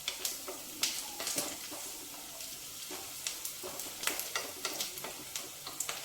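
Onions fry in a pan for a ridge gourd and chana dal curry, giving a steady close sizzle broken by frequent stirring scrapes and taps. No speech.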